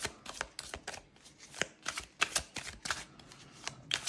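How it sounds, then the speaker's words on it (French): Lightseer tarot cards are drawn and shuffled, giving close, repeated papery flicks and riffles in irregular bursts, with no talking. "je vais prendre deux cartes du Lightseer"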